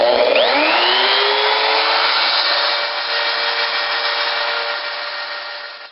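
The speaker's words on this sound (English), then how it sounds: "You need to drill 4 half-inch holes." A power drill spins up with a rising whine, then runs steadily as it bores half-inch holes into a Yamaha V Star 1100 Classic motorcycle exhaust pipe, the loud buzzing whir slowly fading near the end.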